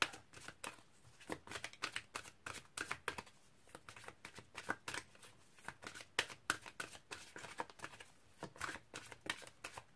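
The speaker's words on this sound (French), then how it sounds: "je vais tirer une toute dernière carte qui sera votre conseil" Tarot cards are shuffled and drawn by hand, a continuous close riffling and flicking of card stock with rapid crisp slaps throughout, quiet and without talking.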